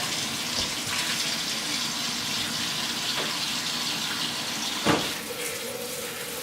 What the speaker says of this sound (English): Run some cold water in it.